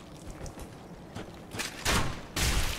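Gunshots in the video game Dark Souls 3, a few soft clicks and then two sharp, loud bursts of fire in quick succession near the end.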